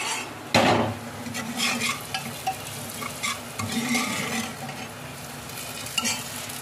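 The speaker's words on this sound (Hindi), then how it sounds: "प्याज मेरी भूनकर तैयार हो गई है" Onions salted and frying in a home kitchen pan, a steady hiss and sizzle under repeated metal spoon stirring and scraping, with one sharp clatter near the start, close and without talk.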